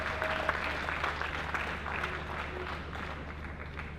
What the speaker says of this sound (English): Please, can we give a round of applause for the government?